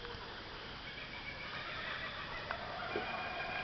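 Kookaburras call in a loud, laughing chorus outdoors, their cackling cries rising from a dense, noisy background of overlapping bird calls that carries on throughout.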